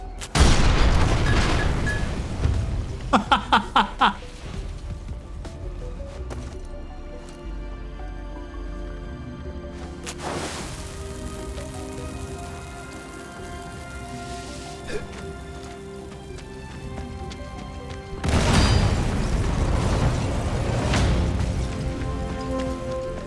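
Booming explosions in a World War II shooter game as satchel charges destroy two Nazi cannons near a dam, with a loud blast at the start and another heavy burst near the end over rumbling battle ambience.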